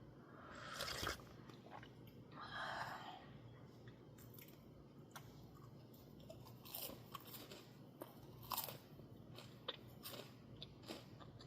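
Close, quiet crunching and chewing of a yuzu-flavored oranda snack: a few sharp bites followed by steady, moist mastication with no talking.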